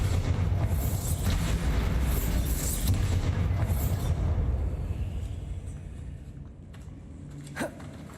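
Bombarda blast spell cast in the Hogwarts Legacy video game, a dense booming explosion with a long rumbling roar that gradually fades out, ending with a short sharp crack.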